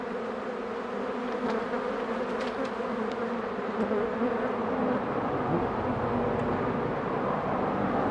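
A steady, close buzzing of a swarm of bees fills the whole stretch, a dense continuous drone with no voices.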